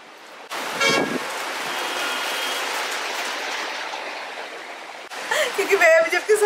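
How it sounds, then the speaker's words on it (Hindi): Steady broadband hiss of rain falling in Bangalore, India, fairly loud and continuous, with a vehicle horn toot near the start and clattering, busier noise toward the end. "शुरू बारिश।"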